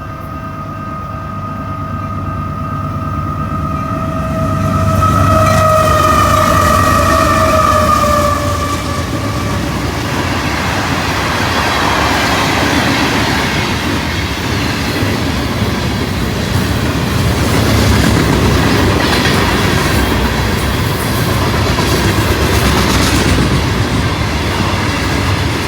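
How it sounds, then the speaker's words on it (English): A train horn sounds as a train rumbles past steadily and loudly, its wheels clattering on the rails for the whole stretch. "Okay, here comes the train."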